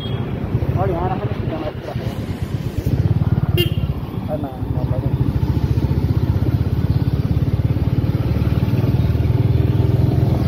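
A Royal Enfield Meteor motorcycle engine drones steadily throughout with wind buffeting the microphone, while a voice talks over the ride.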